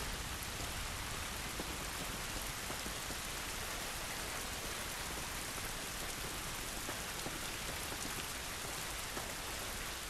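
Heavy rain falls outdoors in The Last of Us Remastered, a constant, close wash of pattering drops that stays unbroken and free of voices.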